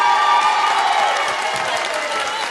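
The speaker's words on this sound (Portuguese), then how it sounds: "Um grande aplauso para ele!" A concert audience at a live show in Anadia applauds and cheers, a dense continuous wash of clapping and shouts that holds steady and close for the whole stretch.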